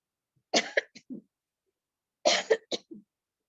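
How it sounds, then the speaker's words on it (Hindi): Two bouts of close, dry coughing, each a quick cluster of three or four coughs, separated by a couple seconds of silence. "एक मिनट मुझे खांसी हो रही है, जरा मैं पानी पी लूं।"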